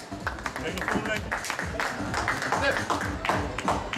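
Audience applause at a poker table, a steady patter of clapping that runs for several seconds beneath a voice speaking Dutch.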